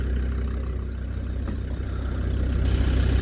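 A Land Rover Discovery 2 engine idles to warm up after a gearbox service, a steady low rumble close by with no talk.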